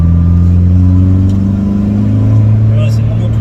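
A Peugeot 106 S16 with a naturally aspirated engine holds a loud, steady drone with a slowly rising pitch, heard close from inside the car on a track outing, with no speech over it.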